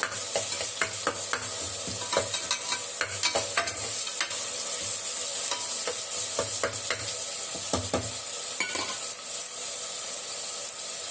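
Ingredients sauté in a pan at the start of a thick mutton head curry, a steady sizzle overlaid with frequent rhythmic scraping and stirring strokes, close and continuous throughout.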